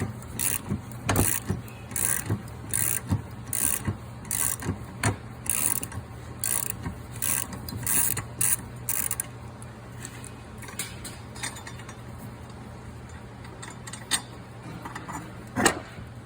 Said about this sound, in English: We're going to grab our ratchet again and remove our nut from the spindle.